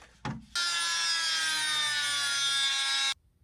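A high-pitched Dremel rotary tool whines steadily for a few seconds as it cuts into a metal bolt on a BMW E46, starting after a brief knock and cutting off abruptly.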